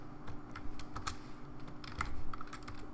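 Keys clatter on a computer keyboard in scattered bursts of close, crisp clicks over a steady low background hum, with no voices.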